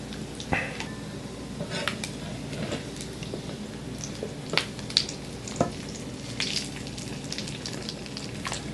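Steady sizzling of fish patties frying in a pan, with occasional crackles and pops and a few light utensil clicks.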